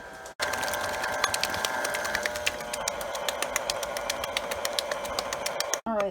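A stand mixer with a paddle attachment beats pumpkin pie filling, giving a steady close whirring drone with a rhythmic mechanical ticking that runs almost without a break for several seconds.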